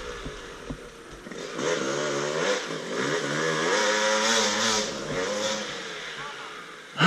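A Yamaha YZ 250 two-stroke dirt bike engine runs and revs up with a buzzing, wavering drone, rising and falling in pitch at moderate distance, with people speaking faintly at times.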